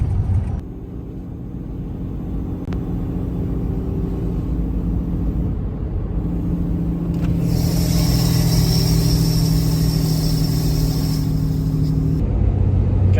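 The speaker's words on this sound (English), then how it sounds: "Got that exhaust brake screaming coming through there." Hotshot truck's exhaust brake roaring on a road near an old hydro dam, a steady loud low engine drone that builds into a sustained rasping higher blare midway and holds before easing near the end.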